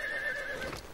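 A cartoon horse lets out a short whinny with a bright, wavering pitch, heard alone and fairly close, with faint hoof clip-clop under it.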